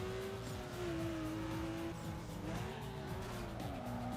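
Mazda Miata races in Need for Speed Underground 2, a steady engine drone with a sustained tire squeal and skidding as it corners, faint and continuous with no talk.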